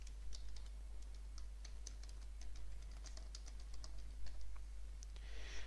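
Typing on a computer keyboard while entering a restore point description in Windows 10, rapid uneven keystrokes close and clear over a low steady hum.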